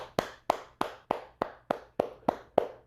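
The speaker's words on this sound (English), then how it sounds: "let's go ahead and let's clap for that" Ten sharp hand claps at a steady, even pace, each a crisp close smack with a short decay, heard alone without talk.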